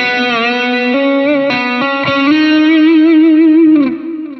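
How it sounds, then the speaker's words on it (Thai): Electric guitar playing the solo from a Thai song, distorted with chorus, each note picked and then bent with the tremolo bar into wavering, sliding pitches, loud and alone. "ผมจะเล่นเป็นดีดทีนึงแล้วก็คันโยกตามมาตัวละโน้ตนะครับเดี๋ยวจะเล่นให้ฟังก่อนนะครับ"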